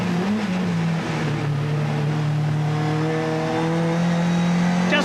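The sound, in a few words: touring race cars on track, BTCC 1988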